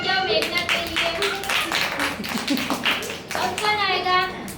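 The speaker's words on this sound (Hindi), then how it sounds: "तालियां बजाओ मेघनाथ के लिए।" Children clapping for a classmate named Meghnath during a classroom activity, a lively patter of small hands in quick uneven bursts, mixed with children's voices and an adult speaking.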